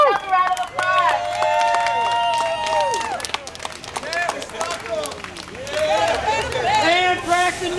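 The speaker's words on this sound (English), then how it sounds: "Give yourself a round of applause." A crowd at an anti-fracking rally outside a politician's headquarters in Buffalo, New York, applauds and cheers loudly and steadily, with shrill whoops and whistles over dense clapping and shouting voices.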